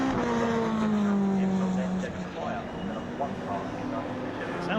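Race cars, including a Mazda MX-5, run down the exhibition straight at Donington Park, with a droning engine whine that shifts pitch as they pass, under continuous commentary.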